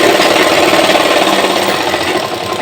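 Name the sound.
sewing machine stitching a pant seam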